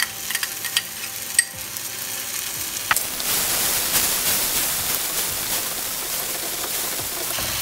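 Tomato puree with turmeric sautés in a pan: a few soft clicks at first, then a steady, fairly quiet hissing sizzle settles in and continues.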